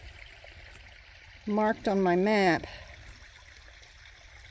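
A mountain stream of iron-rich water trickles steadily in the background, a soft continuous wash interrupted briefly by someone speaking nearby.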